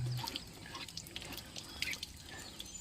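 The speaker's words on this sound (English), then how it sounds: "Let the water drain out." Water drains out of a Keystone Arcadia RV hot water heater tank after flushing, a steady trickling and dripping flow with a faint splashy hiss, quiet and continuous with no talking.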